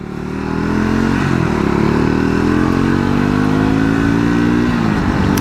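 A 2025 Triumph Scrambler 400X motorcycle accelerates steadily, its engine note climbing through the gears in a loud, continuous close-up drone with a brief dip around the middle.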